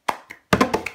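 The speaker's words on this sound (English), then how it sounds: "the first step is clap, clap. All you're going to do is clap twice." Two sharp hand claps open the cup song rhythm, followed by a quick cluster of claps and cup taps, close and crisp with brief silences between hits.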